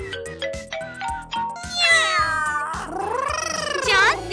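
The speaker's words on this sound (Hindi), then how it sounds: "यहाँ एक किटी है।" A cat meows and caterwauls repeatedly at close range, with rising and falling drawn-out cries, over loud steady music with a regular beat.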